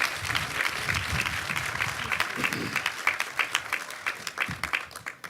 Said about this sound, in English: Let's give them all a big round of applause for coming up and doing that.